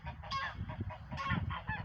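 Geese honk loudly and repeatedly at close range in a farmyard in late February, their calls overlapping in a continuous noisy chorus.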